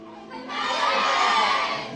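A studio audience shouts together in unison, a loud sustained swell of many voices that rises sharply after a quieter start and holds for over a second before easing off.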